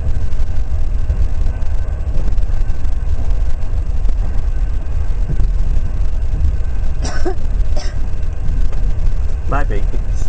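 A moving train gives off a steady, continuous low rumble the whole way through, with a few brief high squeals breaking in toward the end.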